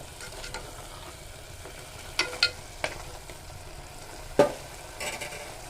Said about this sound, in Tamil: நம்ம நல்லா கிளறி விட்டுக்கிடலாம்